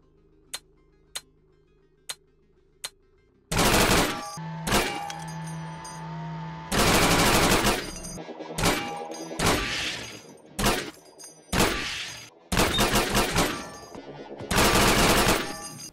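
Full-auto gunfire from a modded weapon in the game Receiver: a few sharp single clicks open, then loud, dense bursts of automatic fire in repeated strings with short gaps between them, close and harsh.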